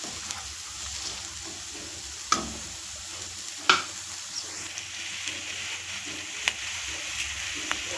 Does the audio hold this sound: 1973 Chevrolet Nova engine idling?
no